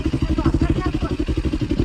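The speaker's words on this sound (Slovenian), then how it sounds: "Probavam motor, ki me nekaj zajbava." Beta RR 450 dirt bike engine idling close by with a fast, even, chugging pulse, steady and loud throughout.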